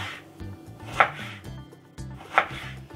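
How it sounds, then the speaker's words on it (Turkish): A knife slices vegetables finely on a cutting board for tempura, two crisp chopping strokes cutting through a soft background with no talk. "Şöyle ince doğrayacağım bakın."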